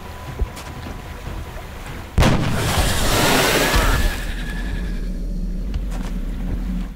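A sniper rifle headshot in XCOM 2 goes off as one sudden loud crack that swells into a sustained roaring rumble for about two seconds, then eases back to a steady low background hum.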